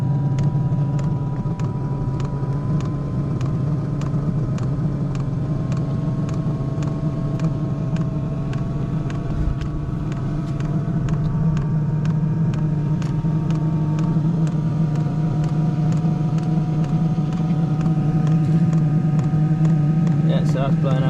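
A diesel heater runs inside a Land Rover Defender 110, giving a steady, close droning hum with a faint tonal whine that holds evenly throughout.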